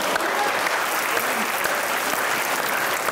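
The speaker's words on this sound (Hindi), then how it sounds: "तालियां" Studio audience of a comedy talk show bursts into loud, sustained applause, a thick continuous roar of clapping that holds steady throughout.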